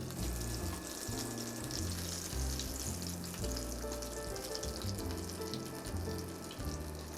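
Flour-coated oyster mushrooms frying in a pan, a dense, steady hiss and crackle of hot oil with low rumbling tones underneath, close and continuous, no speech.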